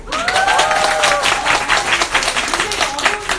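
Studio audience applause on a Korean live show, a steady wash of clapping over about three seconds with a few voices and tonal sounds riding on top.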